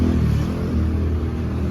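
A motorcycle engine revs steadily and close by, a rough, constant low mid-range drone with no voices over it.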